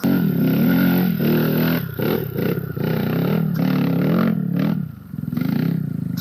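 Trail motorcycle engine revving hard on the throttle during an off-road trail ride, a loud, close, sustained roar with brief dips and surges as the gas is blipped, with mechanical clatter underneath.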